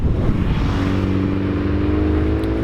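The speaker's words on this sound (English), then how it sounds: "So I'm driving Ben's Evo now" A Mitsubishi Evo on Hankook RS3 200-treadwear summer tires drives in cold weather, its engine a steady, loud, close drone with layered harmonic hum and slight pitch shifts, heard without voices.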